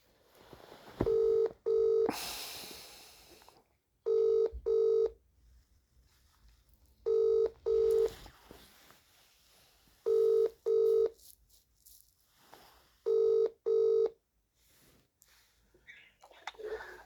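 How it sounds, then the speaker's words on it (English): A telephone ringback tone sounds repeatedly, a double ring about every three seconds, with a short burst of noise near the start. "Ringing up Graeme Kenna, the city solicitor."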